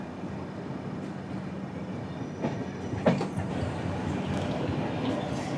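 Train 305 from Ghaziabad rolls in near Nizamuddin, a steady rumble of wheels and carriages with faint clatter, heard from trackside without speech.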